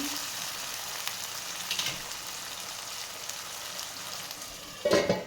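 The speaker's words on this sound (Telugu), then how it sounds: "టమాటాలు వేసుకొని బాగా కలిపుకొని బాగా మెత్తగా కావాలండి" Tomatoes fry with ginger paste in a pan for tomato rice, hissing in a continuous sizzle while a spoon scrapes and stirs, ending in a louder burst of stirring clatter close by.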